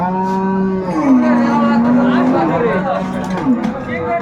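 Loud, close mooing from a cow with a calf at a cattle market in Raniganj, one long sustained call that bends downward, followed by shorter lowing while people murmur nearby.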